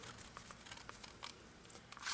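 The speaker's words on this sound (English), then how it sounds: "on the corners, I'm going to cut out that little square" Scissors snip a small square from the creased corner of a paper sheet for a zoo-themed flip album, several quiet, close cuts and rustles spread across a faint background.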